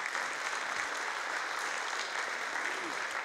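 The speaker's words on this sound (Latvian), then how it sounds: "Aplausi!" Steady audience applause fills the hall at a folk ensemble anniversary concert, dense and even throughout with no pauses.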